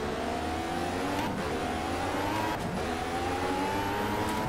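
A Lotus 98T Formula One car in a racing game at classic Hockenheimring drones with a high, steady engine whine, pitch climbing through gears with brief dips at shifts, loud and continuous throughout.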